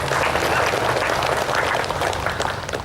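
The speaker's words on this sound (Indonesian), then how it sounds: "Mari kita beri aplaus untuk kita semua." An assembled audience at an Indonesian provincial civil-service gathering breaks into sustained, loud applause, a dense wash of many hands clapping evenly throughout, easing slightly toward the end.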